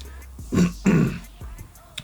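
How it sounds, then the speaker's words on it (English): A person clears their throat twice in quick, rough bursts, close and fairly loud, followed by a few softer rasps. "I apologize for the amount of times I've had to clear my throat."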